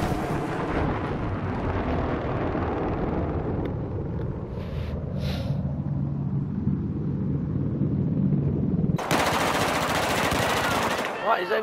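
Rapid, dense automatic gunfire and explosions in the Battlefield video game on hardcore mode, continuous loud bursts with rumbling blasts and a sharp noisy burst near the end.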